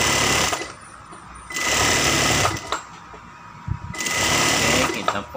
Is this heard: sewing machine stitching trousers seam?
yes